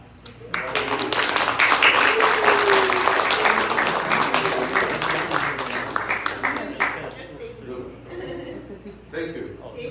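A church congregation breaks into sustained applause, loud and dense for several seconds before thinning into scattered claps, with voices and light laughter mixed in.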